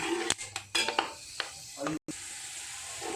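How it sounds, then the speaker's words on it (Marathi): Peanuts crackle while frying in oil for poha chivda, a scattering of sharp pops and metallic clinks and scrapes from stirring, close and fairly quiet, with a brief dropout near the middle. "चांगले असे शेंगदाणे तडतडत आहेत तुम्हाला आवाज येत असतील"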